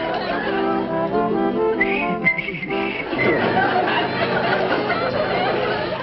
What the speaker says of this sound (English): whistle a tune for us